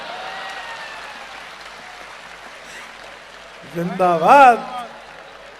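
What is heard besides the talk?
audience applause at a poetry recital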